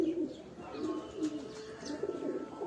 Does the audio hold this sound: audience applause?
no